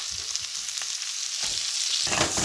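Sliced onions and peppers sizzle in a hot pan for sweet and sour pork, a soft, steady frying hiss with a brief burst of louder crackle near the end.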